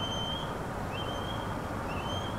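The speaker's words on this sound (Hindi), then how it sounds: "ओ ये चील की आवाज़ है" A kite calls from the forest in a bus driving game on the Kessel to Hannover route: thin, repeated whistling cries over a steady engine and road rumble.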